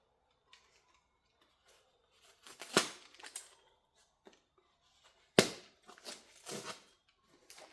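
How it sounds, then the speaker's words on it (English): Fire-rated pipe wrap being cut in half on a concrete floor, giving a few sharp, close snips and crackles in two short bursts separated by quiet pauses. "We just simply cut the second one in half."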